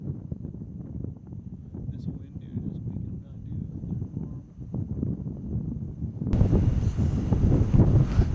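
Wind gusts over the microphone outdoors during a South Dakota archery mule deer hunt, a steady low rumble that swells louder in the final seconds, with someone talking over it.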